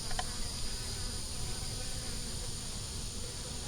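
Bees in an open hive box keep up a dense, close buzzing drone that holds steady throughout, with a faint brief tick near the start and no talking.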